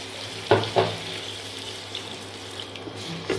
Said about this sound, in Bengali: আমি মশলা ধোয়া জলটাকে দিয়ে দিচ্ছি